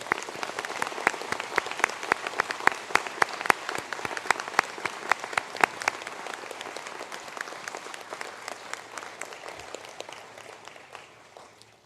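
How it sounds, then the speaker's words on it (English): Audience applause at a university conferring ceremony, many distinct hand claps in a lively hall that carry on for several seconds and then gradually thin and fade out. "to please stand for a round of applause."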